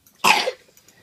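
A single short, sharp cough from a small child, close to the microphone, with quiet surroundings before and after.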